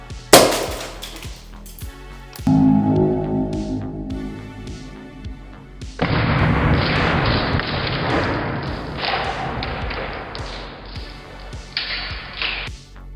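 T238 40mm grenade launcher firing a foam grenade, a sharp thump near the start followed by scattered clicks, taps and handling noise close by.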